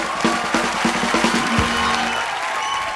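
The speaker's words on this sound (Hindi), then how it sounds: "जोरदार तालियां एक बार हो जाएं" Studio audience at The Kapil Sharma Show bursts into loud applause and cheering, dense clapping with whoops filling the room, then fading out.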